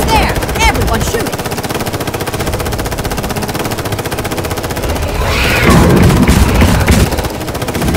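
Rapid gunfire from a film battle scene as soldiers fire on two charging dinosaurs, a dense continuous barrage of loud shots with a heavier burst of blasts and rumble near the end.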